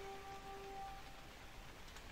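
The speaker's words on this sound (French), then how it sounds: "il continue de pleuvoir" Rain in the Kingdoms video game, a soft, even patter and hiss of falling drops heard faintly and continuously, with a brief tonal hum early on.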